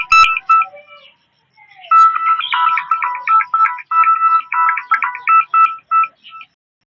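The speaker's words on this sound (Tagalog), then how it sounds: "Tagal namang matapos ang ring." A phone ringtone plays a loud, close, repeating electronic melody in rhythmic bursts after a brief opening tone and short gap, with no talking over it.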